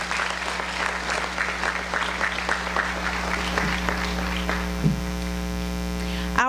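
Audience applause for students at a senior awards ceremony, a sustained patter of clapping that fades over a loud steady mains hum.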